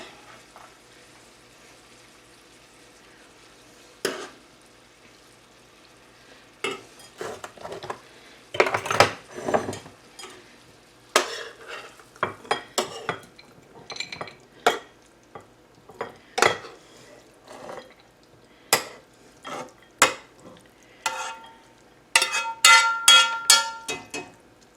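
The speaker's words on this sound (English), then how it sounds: "I'm going to put just a little bit more butter and melt it down in these green beans" Butter melting into green beans in a pan, with a metal spoon or fork stirring and scraping in scattered clinks and soft sizzles, quiet between bursts and busier toward the end.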